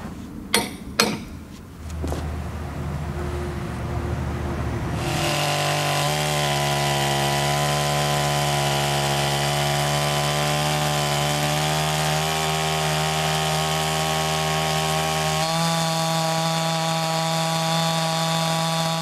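A chainsaw milling boards from a log. It starts with a few pull-start yanks, then the engine idles and revs up into a steady, loud, high-pitched cutting whine that holds for a long stretch and shifts pitch slightly near the end.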